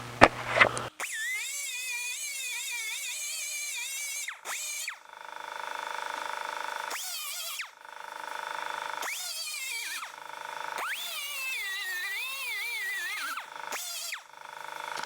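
A 2-inch grinder works an aluminum Jaguar E-Type bonnet, its high, whining motor rising and falling in several bursts with short pauses between, after a brief knock at the start.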